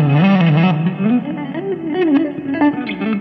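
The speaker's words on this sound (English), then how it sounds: "This gives you a nice clean guitar string sound without the conventional attack of a pick or fingers." An electric guitar string driven by an EBow sings with smooth, sustained tones and no pick attack, stepping through hammered-on scale notes that glide up and down in pitch.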